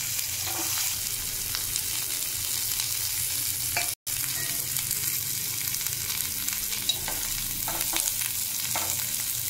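Finely chopped onions sauté in hot oil with curry leaves for a tomato curry, a dense, continuous sizzle close by with light stirring and no talk.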